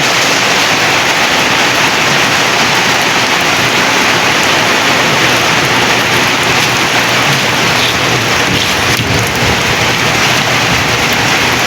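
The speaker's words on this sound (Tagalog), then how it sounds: "ang lakas ng ulan talaga" Heavy rain pours steadily in a dense, unbroken roar, loud and close, with no voices over it.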